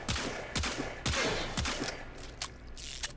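Dual pistols fire in rapid bursts in the Warframe video game, each volley a loud sharp crack with a ringing tail, about six or seven shots in quick succession.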